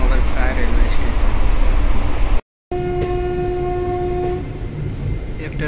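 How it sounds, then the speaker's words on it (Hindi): A train arrives at Mughalsarai railway station (Pandit Deen Dayal Upadhyaya Junction), a loud close rumble of wheels on rails. It breaks off briefly, then a sustained two-tone horn sounds over the continuing rolling noise. "एक ट्रेन आ रही है"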